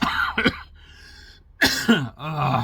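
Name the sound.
coughing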